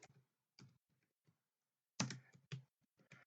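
Bursts of typing on a computer keyboard, short clusters of clicks separated by pauses, close and fairly quiet with no talking.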